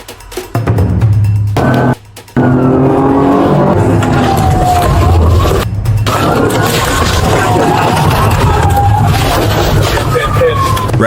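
From a police dashcam, a car engine races hard during a high-speed pursuit through fences and traffic, a loud continuous roar with rising and falling pitch, broken by a couple of brief gaps.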